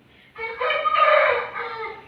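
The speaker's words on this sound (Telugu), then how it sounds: "కోళ్ళు కూస్తూ ఉన్నాయి" A rooster crows once before dawn, loud and close, a long rising-then-falling call lasting about two seconds after a quiet start.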